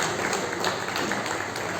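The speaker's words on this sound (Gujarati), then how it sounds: "સૌ તાળીઓથી આ સન્માનને વધાવીએ." A crowd at a literary awards ceremony in an ashram claps in a dense, steady wash of applause that holds evenly throughout the short stretch.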